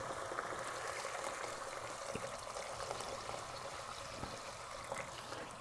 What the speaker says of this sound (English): so I'm going to put 4 cups of water in this one.